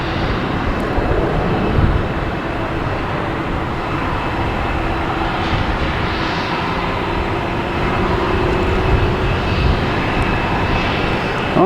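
A Hainan Airlines jet at Boston Logan Airport gives a steady, loud engine roar that holds throughout, with broadband rumble and no talk over it.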